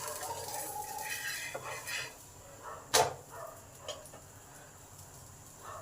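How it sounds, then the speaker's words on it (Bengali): A lid is lifted off a cooking pan where an oil-free, high-protein breakfast cake is steaming, giving one sharp metallic clank near the middle over a low kitchen hum, followed by a softer knock. "1 মিনিট পর চাপাটা খুলি।"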